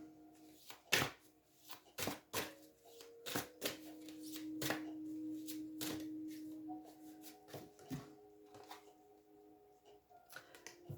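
Oracle cards are shuffled by hand in a series of crisp, riffling flicks and taps, separated by short pauses, close up with no talk.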